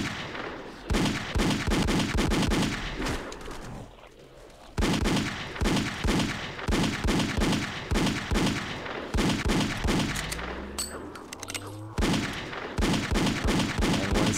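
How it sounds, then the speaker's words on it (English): Chromed dual pistols in Halo Custom Edition, modeled on Halo 2, fire in rapid repeated bursts with brief pauses, loud and close, with other game sounds layered in. "Oh, we got duels. This looks like Halo 2 pistols."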